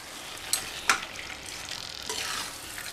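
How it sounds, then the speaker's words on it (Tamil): Mutton pieces being tossed and fried with masala in a pan for mutton kuzhambu, producing a soft steady sizzle with a couple of sharp scraping clinks from stirring. "மட்டனை சேர்த்ததுக்கப்புறம் நல்லா இந்த மட்டனோடு சேர்ந்து இந்த மசாலாவும் சேர்த்து அப்படியே பிரட்டி விட்டுறணும்."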